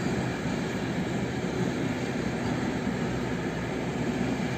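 A train rolls through Warszawa Gdańska station with a steady, loud, continuous rumble and wheel noise that holds evenly throughout, close by and with no voices.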